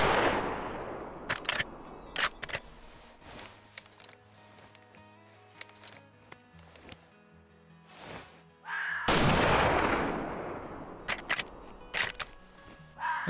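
Rifle shots from a .338 in the hunting game Way of the Hunter: a few sharp, loud reports with booming tails, separated by quieter stretches of faint clicks and low tones, one heavy blast near the end.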